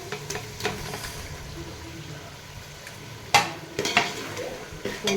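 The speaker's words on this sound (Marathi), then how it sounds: "मिक्स करू ग्रेव्हीत आता ही अंडी" Eggs are stirred into egg biryani gravy in a pan, with soft scraping strokes and a few sharper metallic clinks of a spoon against the pan over a faint sizzle, close up, no voices.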